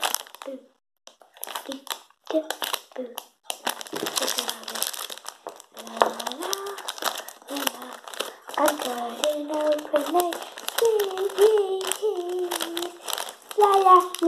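Sour Squashies sweets packet cut open, plastic crinkling in sharp, irregular bursts close by, mixed with someone talking over and between the rustles.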